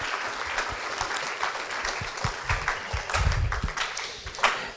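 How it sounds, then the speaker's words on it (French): An audience at a post-growth talk in Bordeaux breaks into sustained applause, a dense wash of many hands clapping that continues steadily throughout. "Je crois qu'on peut l'applaudir."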